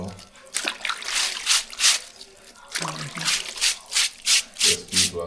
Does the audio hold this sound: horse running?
no